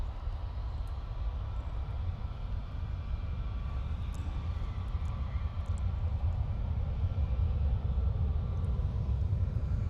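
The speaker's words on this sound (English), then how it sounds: "Right, it's Lufthansa. This is off to Munich, A320 Neo." A Lufthansa Airbus A320neo departs Manchester Airport for Munich, its jet engines a steady broad roar with heavy low rumble, sustained and fairly distant throughout, with no voices.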